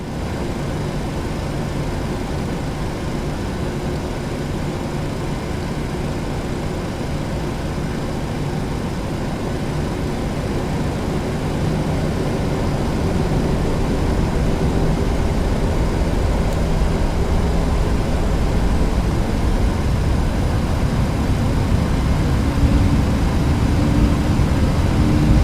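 Ryanair Boeing 737 jet engines spool up to takeoff thrust on the runway at Luqa, Malta, as a steady, loud, broadband roar that gradually builds and deepens, heard from inside the aircraft.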